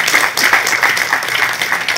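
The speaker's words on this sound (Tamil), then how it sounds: "கணேஷ் மாஸ்டருக்கு வந்து தயவு செஞ்சு ஒரு கைத்தட்டல் கொடுக்கும்." An audience at a stage event claps for fight master Ganesh. The applause is brief and fairly close, a busy patter of many hands.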